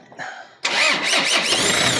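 Car engine cranks and catches right after a starter repair: a brief starter whir, then the motor bursts into a loud, steady running roar close by, with no talking over it.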